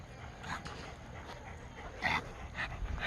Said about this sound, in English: Here they are, the Minibulls at the dog park.